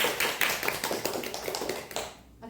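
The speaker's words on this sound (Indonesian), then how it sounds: "Tepuk tangan dulu dong untuk anak English Club yang keren ini." A small group claps for an English Club of young learners at a podcast session, the patter of hands dense and fairly close before it thins and stops near the end.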